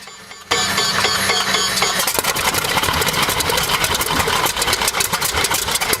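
A large radial engine roars to life after a brief quiet moment, then settles into a loud, steady, throbbing idle up close.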